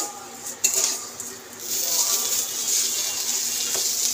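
Frying vermicelli with cashews and raisins being stirred and turned in a pan, giving soft scraping and clinking of a utensil against metal over a steady sizzling hiss, with a sharper knock near the start.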